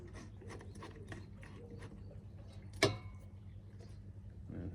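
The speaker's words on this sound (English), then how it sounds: "Put them back in, thread them on." Small set screws threaded back into an Allett Stirling mower's bladed cartridge, a quiet run of soft ratcheting clicks up close, with one sharper metallic tick near the end.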